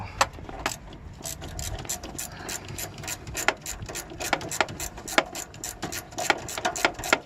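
A ratchet turns a bolt on a turbo blow-off plate of a PT Cruiser, giving close, rapid metallic clicking in uneven runs over a steady low background, with no voices.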